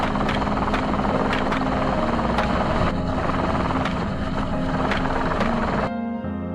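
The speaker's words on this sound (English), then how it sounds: "Helicopters continuously flew over heavily affected zones to monitor from above." A helicopter's steady rotor thrum and engine roar, loud and continuous, cutting off abruptly near the end.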